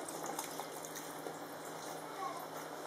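Water poured into a pot of spicy country chicken curry makes a steady, soft splashing hiss that runs for a few seconds, fairly faint and close.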